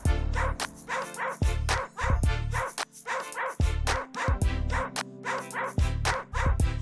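Dogs at an LA Animal Services shelter adoption event in Griffith Park bark loudly and repeatedly at close range, with sharp yips and some whimpering between the barks.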